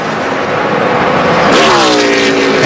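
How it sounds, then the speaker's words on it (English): A NASCAR race car's engine at Chicago goes quiet as the clutch is pushed in down the straightaway, a loud sustained roar shifting into a smoother falling whine as the car passes close. "you hear he's pushing in that clutch down the straightaway. That engine's going quiet"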